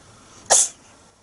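A house cat sneezes once, close and sharp, a brief hissing burst in an otherwise quiet room.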